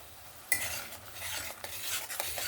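Yogurt, cashew and melon seed paste being stirred into spices in a pan over low flame, a sudden scrape followed by soft wet stirring and faint sizzle for a couple of seconds, close and without talk.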